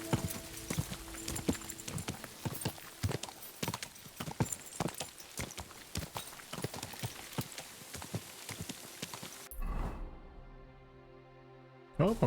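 Horse hooves clip-clopping in Kingdom Come: Deliverance II as the horse is ridden, a rapid run of sharp hoof strikes over rain-like ambience that cuts off near the end, followed by a brief tonal sound.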